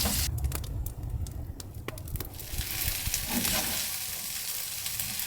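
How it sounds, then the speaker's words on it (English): Cabbage and noodles frying in a pan under an ill-fitting lid give off a steady, close sizzle. Light clatters and stirring sounds come through in the first couple of seconds. "Now you add the cabbage and the noodles. Okay, let it sweat out now for 5 minutes under the lid"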